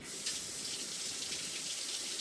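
Tap water running and splashing as potted plants are rinsed off, a steady gushing hiss at close range throughout, with no talking.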